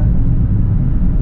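Steady low rumble of tyres on the road heard from inside the cabin of a Nissan March 1.2 automatic, continuous and fairly loud, with no voices.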